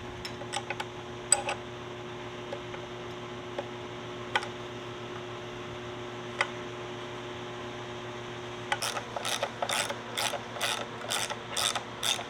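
A turbo nut on a 1JZ engine with a Drift Motion turbo kit is tightened using custom tools, with scattered metallic clicks over a low hum, then a quick run of rhythmic ratchet ticks near the end.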